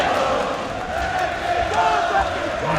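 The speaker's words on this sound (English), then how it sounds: "Already the crowd trying to lift Burns here." A boxing crowd roars continuously in the arena during a Ricky Burns fight, a dense steady wash of cheering and shouting with a commentator talking over it.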